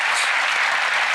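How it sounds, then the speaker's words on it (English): A theater audience at a magic show claps in dense, steady applause, loud and close, filling the whole moment with no voices on top. "Should be a round of applause"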